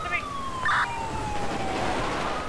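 A police siren wails steadily through busy background noise in GTA 5 FiveM roleplay, with a short electronic chirp partway through; no talking.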